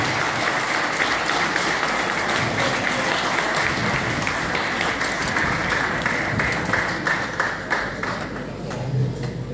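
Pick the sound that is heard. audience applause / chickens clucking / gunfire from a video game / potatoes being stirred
audience applause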